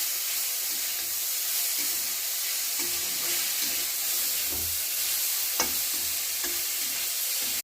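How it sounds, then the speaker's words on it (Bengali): Vegetables sizzle steadily in a hot pan after salt is added, with a continuous close frying hiss and occasional soft stirring clicks, and no voices. "এখন খুব ভালো করে ভেজে নিচ্ছি"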